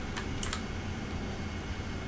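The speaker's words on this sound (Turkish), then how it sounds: "Şu an TDC'den, yön tuşlarından, klavyenin yön tuşlarından seçiyorum." Arrow keys on a computer keyboard are tapped a few times in quick clicks to select a target while flying the AV-8B Harrier in DCS World, quiet over a steady fan-like hum.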